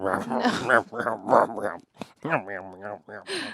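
Two people playfully imitate feral dogs with their voices, producing growly, snarling vocal noises and whiny yips in close bursts, mixed with laughter and voiced sounds.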